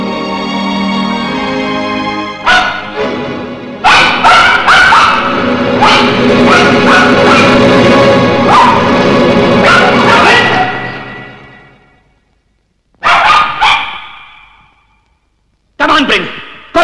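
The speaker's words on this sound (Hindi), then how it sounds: "ये महल के कुत्ते हैं, भौंकते हैं काटते नहीं" Dogs bark at a palace in a 1972 Hindi film scene: loud, repeated barks and yelps come in bursts over a steady music bed, then trail off into short separate barks after a quiet gap.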